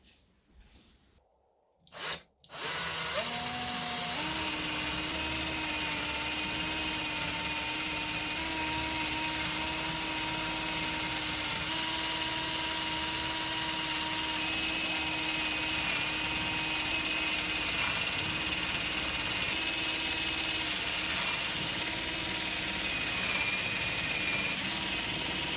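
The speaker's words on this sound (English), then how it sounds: "I'm going to use an 8mm drill bit" A power drill boring holes with an 8mm bit for a DIY screwdriver organizer, a loud steady whine held for over twenty seconds after a couple of brief starts.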